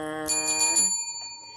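A notification bell sound effect chimes four quick times, bright and metallic, over a sustained tone that rings on and fades to near silence.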